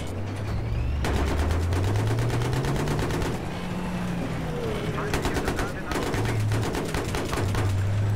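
Rapid automatic gunfire in the multiplayer shooter Battlefield 3 on Karkand, a dense, loud stream of shots that runs nearly unbroken with brief gaps, overlaid by a low engine drone.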